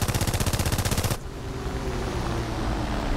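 A P-36A fighter's machine guns fire in War Thunder, one loud rapid burst lasting about a second. It stops abruptly, leaving a steady engine and wind drone with no talk.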